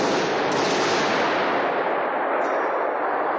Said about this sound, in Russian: Неизвестные в камуфляже и с автоматами заходят через главный вход, стреляя во всех подряд.